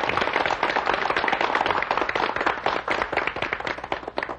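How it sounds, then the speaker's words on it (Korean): Classroom audience of mothers applauding at the end of a televised math lecture, a dense, steady wash of many hands clapping close by for several seconds with no talk over it. "박수 한번 치세요."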